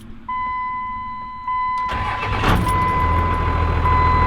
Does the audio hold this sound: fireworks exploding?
no